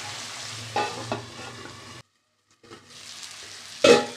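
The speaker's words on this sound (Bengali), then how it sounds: "একটু জল দিয়ে দিলাম এবার ভালো করে নাড়াচাড়া করে" Soybean curry with tomato and water being stirred in a pan: a close bubbling sizzle with scraping spoon strokes, a brief silent gap midway, then more stirring and a sharp scrape.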